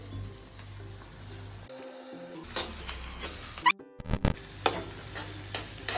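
Ginger, garlic and chili frying in hot oil for masala noodles give a steady close sizzle with stirring, broken by a brief quiet gap and a few sharp clatters near the end.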